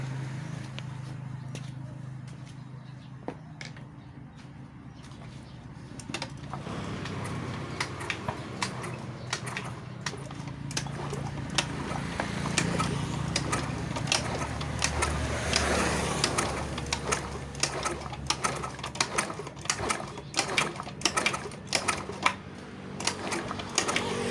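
A Yamaha Fino/Mio scooter engine is kick-started on a bench to test its oil pump: a few mechanical clunks, then a rising rapid clattering idle that grows louder and busier toward the end.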